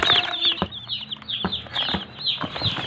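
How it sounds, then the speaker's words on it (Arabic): White broiler chicks cheep in high, quick bursts close by, with a few soft rustles and flutters between the calls. "جبت معاكم كتاكيت النهارده، كتاكيت بيضة، جبت فراخ بيضة اهي كتاكيت"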